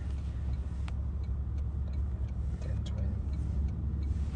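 Low, steady rumble of a car idling and creeping in traffic, a continuous engine drone heard from inside the vehicle with faint ticking over it.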